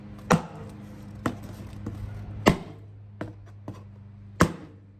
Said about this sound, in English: Brought the box out just to do some slashing here.